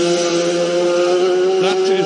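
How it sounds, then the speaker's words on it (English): A Honda RCV racing motorcycle at the Isle of Man TT Senior race, its engine a loud, steady high-pitched tone held close throughout the short pass, with a slight rise near the end. "That is the sound of that RCV."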